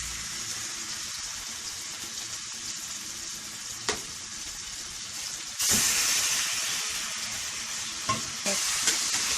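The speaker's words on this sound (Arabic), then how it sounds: "نضيف كل اللحمه بالشكل ده كده، نبتدي بقى نقلب ونحمرها خالص" Beef pieces searing in a hot pot for an onion and potato tagine, a loud continuous sizzle that flares louder partway through as the meat is turned, with occasional utensil knocks and no talking.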